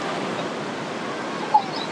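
A river flows beside a hiking trail among rocks, giving a steady, even rushing wash of water throughout, with one brief faint chirp near the end and no voices.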